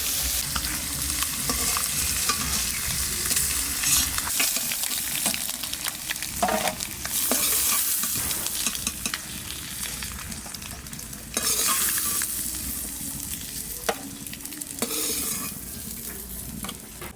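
Quail eggs frying in hot oil, with a steady loud sizzle and crackle running throughout and occasional scraping stirs and pan clatters, no talking.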